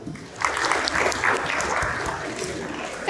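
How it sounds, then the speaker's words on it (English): An audience in a university hall at a Gambian science week event gives a round of applause, a moderate, steady patter of many hands close by with some crowd murmur mixed in. "I would want us to give ourselves a round of applause for the national anthem"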